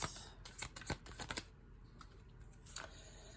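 Tarot cards being shuffled close up, a quick run of crisp riffling flicks and soft card slaps, then a quieter pause and a few more faint taps.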